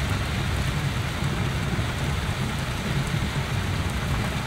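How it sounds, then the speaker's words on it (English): Heavy rain pours steadily in a dense, constant hiss, with a low rumble underneath and no voices, heard while driving on back roads in Costa Rica. "when you're driving and you get heavy rain"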